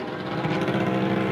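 A loud, buzzy engine exhaust drones steadily at close range, a rough continuous mechanical hum with no voices.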